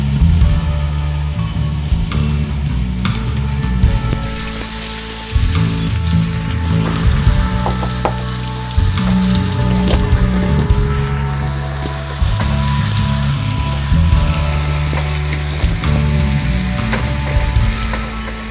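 Whole spices crackle and sizzle in hot oil for a home-style chicken curry, a steady close frying hiss with small pops and occasional stirring throughout, no voices.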